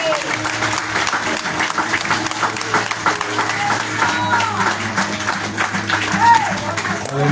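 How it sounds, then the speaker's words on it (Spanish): A church congregation claps and cheers in praise, a dense, continuous wash of applause with a preacher's voice speaking over it. "Oiga, denle un aplauso al Señor."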